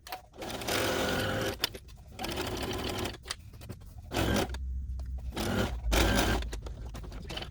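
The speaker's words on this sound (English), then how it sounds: "This is a basting stitch." A sewing machine runs a basting stitch in several bursts of steady whirring, with short pauses between runs and a few scrapes of fabric being moved, close and loud with no talking.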